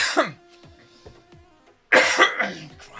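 A chesty cough from a man at close range, with several rough, wet coughs and throat-clearing bursts, a brief pause, then a louder, harsher coughing fit.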